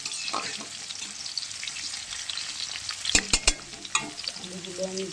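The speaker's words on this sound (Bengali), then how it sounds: "আলুগুলো আমি ভেজে নিই" Potatoes frying in oil in a pan as a first step for a fish curry, a soft steady sizzle with a few sharp clanks and scrapes of a utensil against the pan, fairly quiet and close, no talking.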